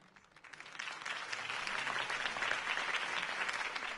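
Crowd applause from the video game Batman: The Telltale Series rises from a quiet start into steady, dense clapping that holds evenly, heard alone without talk.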